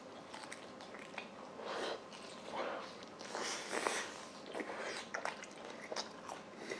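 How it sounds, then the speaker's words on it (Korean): Homemade sweet-salty crispy fried chicken eaten by hand, with close, moist bites and chewing in irregular bursts and no talk. "치킨 한번 먹어보겠습니다"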